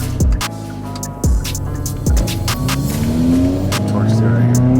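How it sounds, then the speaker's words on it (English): Hyundai Veloster N exhaust roars loudly under hard acceleration, revving up through several gear changes with sharp drops and rising engine pitch inside the cabin, with someone talking over it. "The exhaust is loud."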